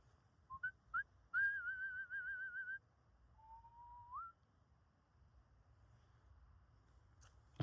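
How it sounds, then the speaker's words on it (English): A person whistles alone in a quiet room: a few short chirps, then a sustained warbling note, and later a single rising glide, soft and close. "I like whistling."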